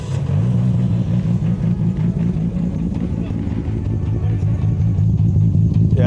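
Nissan R34 GTR with an HKS titanium exhaust idling loud and close, a steady deep rumbling engine note with slight revving swells throughout, and people talking faintly over it.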